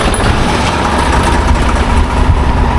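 A tractor engine runs at a steady, loud idle with a deep, rough low rumble, no talk, heard near and alone on a farm during haymaking.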